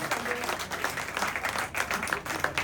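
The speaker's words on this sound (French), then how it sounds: "Merci Kensia, on applaudit encore, plus fort, plus fort" Sustained audience applause at a public health event, dense steady clapping from a crowd with a slightly rising and falling intensity.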